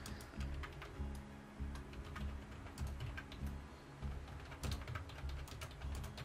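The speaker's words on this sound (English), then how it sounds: "he is furiously typing" Rapid, frantic computer-keyboard typing clatters steadily throughout, dense clicks close up over a low background hum, with no talking.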